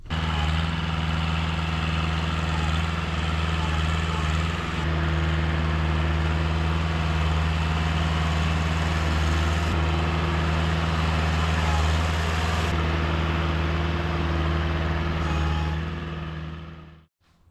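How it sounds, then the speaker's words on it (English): Tractor engine running steadily at close range while spreading wood chips on a late-winter cabin homestead, a constant low drone with no talk that cuts out at the end. "Now I'm gonna hop back on the tractor, finish spreading these chips"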